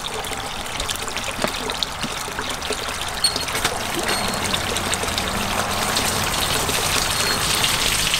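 Water steadily pours and trickles into a small backyard pond liner of about 80 gallons, a constant close splashing hiss with no pauses and no talk.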